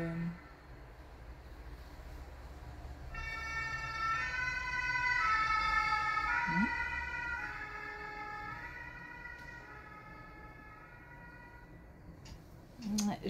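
An ambulance siren wails with a harmonic warbling tone, rising and then fading as it passes, over low traffic rumble.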